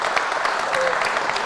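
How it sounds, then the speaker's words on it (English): Brief burst of audience applause for conference speakers at an anniversary event, steady and moderately loud over a second and a half, with a faint voice mixed in. "A big applaud for all the speakers and Antonio."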